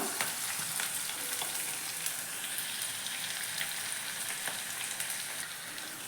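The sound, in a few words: sautéing onion, green chili and garlic in a pan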